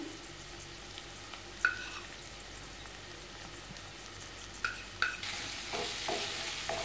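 Fennel and cumin powders are stirred in a hot pan for vegetable biryani, with a steady low sizzle under a few sharp scraping taps of the spoon, close and quiet, with no voices.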